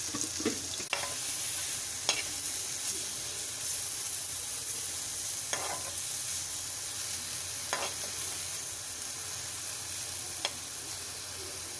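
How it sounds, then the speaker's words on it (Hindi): Eggplant sizzles in hot oil with cumin and black coriander for baingan raita, a steady frying hiss broken by occasional sharp spoon clinks and stirring scrapes against the pan, fairly close and without talk. "ये साथ ही साथ तल जाते हैं मसाले के अंदर"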